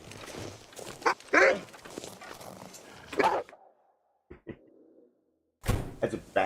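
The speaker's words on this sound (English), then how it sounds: "That's a bad dog right there." Wolf in a survival video game snarls and growls in several rough, choppy bursts, followed by a near-silent stretch with a couple of faint clicks before another loud growl breaks in at the end.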